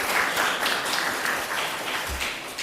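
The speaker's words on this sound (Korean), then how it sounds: "우리 잘 가시라고 박수 드리겠습니다." A church congregation claps during a Sunday service, a dense, steady round of applause from many hands that holds evenly throughout the room.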